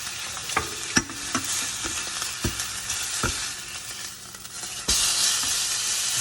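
Steak frying and sizzling steadily in a hot pan, with a few sharp clicks and scrapes of stirring or handling over a continuous crackling hiss, close and alone without talk.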